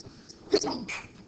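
A single sharp sneeze bursts out at close range in a quiet classroom, brief and loud against a soft room background.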